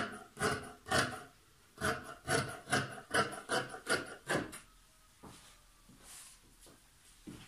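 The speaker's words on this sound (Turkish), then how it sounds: "Yana da dikiş payı vererek komple kesiyorum." Fabric being cut for a laced crossover prayer dress, a run of rhythmic rasping snips at close range that stops partway through, leaving a quieter stretch with faint handling sounds.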